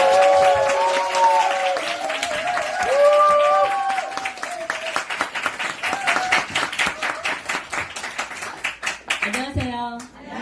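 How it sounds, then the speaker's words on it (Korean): An audience at a Korean business lecture bursts into applause and cheering, a dense roll of clapping that builds over the second half after tonal voices and music at the start. "우리 진짜 함성 박수로 모시도록 하겠습니다."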